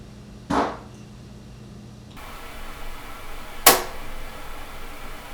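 Two sharp, isolated pops from a heavy computer monitor, one early and a louder one later, crack over a quiet background hum with no speech.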